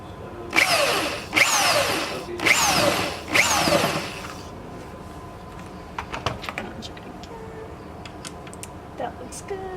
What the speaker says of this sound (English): So I'm going to keep drilling a little bit deeper.